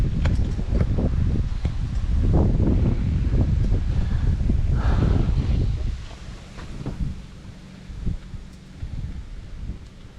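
Strong wind on a fishing outing for bass and snakehead buffets the microphone with heavy rumbling gusts for about six seconds, then eases to lighter, intermittent gusting.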